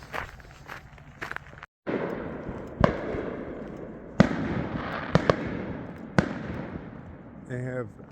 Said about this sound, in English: They have pretty lame fireworks out here